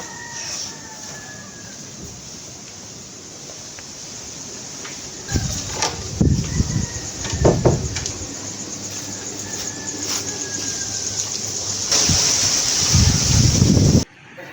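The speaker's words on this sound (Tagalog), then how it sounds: "Medyo mahangin pa rin po mga ka-sisters" Strong wind blows outdoors, buffeting the microphone with a steady broadband rush and louder gusts around the middle and near the end, with no talking.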